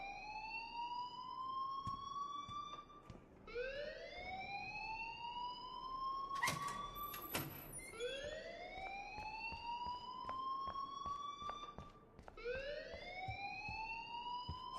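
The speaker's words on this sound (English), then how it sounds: "please turn off that alarm since that's your job" A fire alarm wails in the video game Life is Strange, a rising electronic siren tone repeating roughly every three seconds at steady volume, with no speech.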